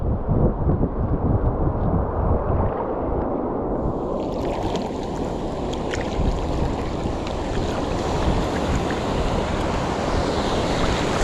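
Ocean waves break and wash in shallow water during fishing, a continuous loud rushing roar mixed with heavy wind buffeting the microphone, with no voices present.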